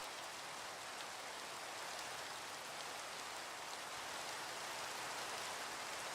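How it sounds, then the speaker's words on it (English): Rain falls in the Settlecraft video game as a soft, even hiss of countless drops pattering on surfaces. The shower holds steady and faint throughout, with no voices. "And it's raining."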